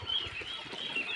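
Young ducklings, hatched from an incubator and kept at home, pecking at grain scattered for them, with soft, busy peeping chatter and faint pecking that carries on steadily through the whole moment.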